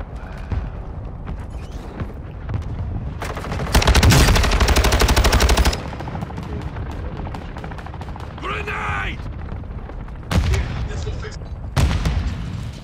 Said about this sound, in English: somebody shooting at him